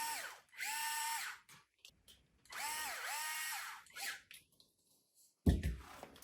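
A power drill whirs in short bursts, three on-off runs with pauses between, driving screws back into a Traxxas TRX-4 RC crawler winch; close and fairly quiet.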